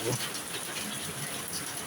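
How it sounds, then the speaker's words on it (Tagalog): Heavy rain pours down steadily while the sun shines, a dense, even hiss of water striking surfaces, loud and close throughout with no breaks. "Kahit ang lakas ng ulan."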